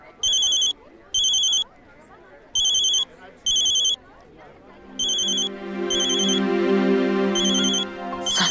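A mobile phone rings in a domestic TV drama scene, with four short bursts of a bright ringtone followed by a louder sustained ringtone melody, while someone talks under the ringing.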